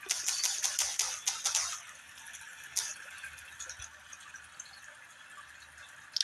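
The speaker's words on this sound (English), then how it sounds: "Let me type in this." Rapid clicking keystrokes on a keyboard, a quick burst of typing at first, then sparser, softer taps with pauses, close and fairly quiet.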